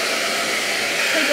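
A hair dryer blows steadily on hair being smoothed with a brush, a continuous broadband rush of air at close range with no talk.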